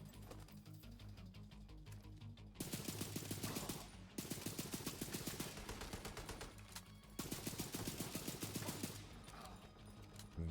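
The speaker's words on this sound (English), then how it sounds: "Very powerful gun." Rapid automatic fire from an ACR rifle in the shooter game The Division 2, delivered in three sustained bursts of dense, loud gunshots separated by brief pauses, under a constant layer of game sound.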